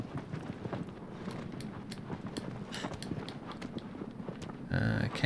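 Horse hooves drum rhythmically in Shadow of the Colossus, a steady galloping clip-clop near and moderately loud throughout, with a burst of heavier noise at the end.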